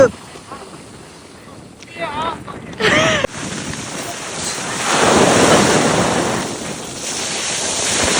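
Ocean waves wash onto a beach in Wales, a steady roar of surf mixed with gusty wind buffeting the microphone, while voices chatter briefly early on.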